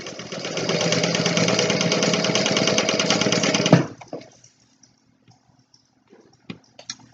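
A sewing machine stitches through vinyl for several seconds with a steady, fast mechanical whir, then stops abruptly, leaving near silence broken by a few small clicks and taps.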